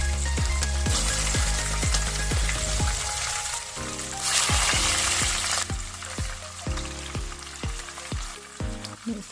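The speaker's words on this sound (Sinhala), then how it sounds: "අර මැරිනේට් වෙන්න තියපු මාළු කෑලි ටික එකින් එකට එකතු කරලා මේ විදිහට හොඳට ෆ්‍රයි කරගන්න." Marinated fish pieces fry in hot oil with a continuous close sizzle, punctuated by a steady series of sharp metallic scrapes and clinks as the pieces are turned in the pan.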